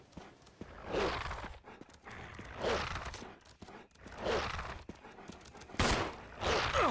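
Gunfire in the Resident Evil 1 Remake, several sharp shots spread across the clip among repeated swelling bursts of noise, fairly quiet overall with no talking.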